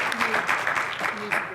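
An audience at a panel discussion applauds and cheers for an Atlanta school superintendent; dense clapping with voices, some speech heard over it.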